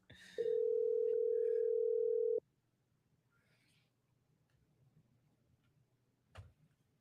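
A telephone call tone sounds a single steady beep of about two seconds, clear and close, followed by a quiet line with faint clicks and a soft thump.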